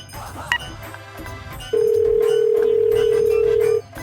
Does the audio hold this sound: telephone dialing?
yes